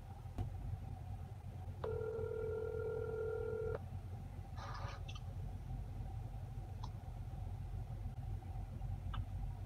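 A single faint telephone ring tone sounds for about two seconds over a steady low rumble, followed by a few soft clicks.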